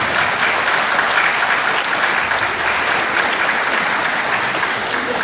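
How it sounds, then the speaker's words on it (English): Steady, dense applause from kids on stage at a regional band concert, loud and continuous clapping for several seconds with no talking over it. "give your parents a round of applause for all that"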